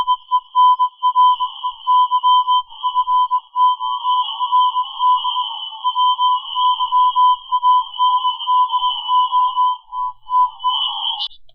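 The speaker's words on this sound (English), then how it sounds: "don't try to tell me that's anything but a Morse code signal" Morse code signal picked up on a home antenna radio: steady two-tone beeping keyed in rapid on-off bursts, loud and continuous with brief gaps, alone without speech.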